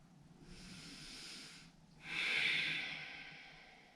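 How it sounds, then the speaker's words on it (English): Slow, deep breathing during a yoga class: a long airy inhale, a short pause, then a stronger, louder exhale, close up and steady with nothing else in the foreground. "Breathing deeply."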